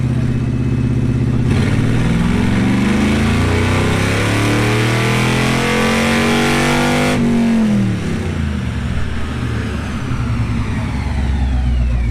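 A powerful V8 car engine roars loudly up close, revving and rising in pitch, then dropping back to a rough, rumbling idle.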